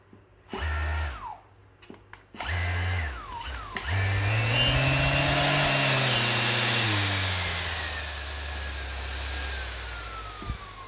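A TITAN electric sander runs at its minimum speed setting. It gives a couple of short revs, then a steady whirring hum with a faint rising whine, fairly close and not especially loud, with no voices.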